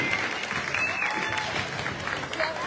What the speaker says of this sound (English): Let's give all the contestants a big round of applause